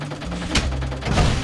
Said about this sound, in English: Oh well, you can only get so many explosions.